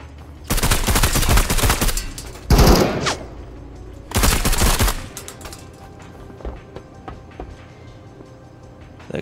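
Bursts of MG42 or STG machine gun fire in a World War II style video game, three loud rapid-fire volleys up close, then scattered quieter shots and clatter fading afterward.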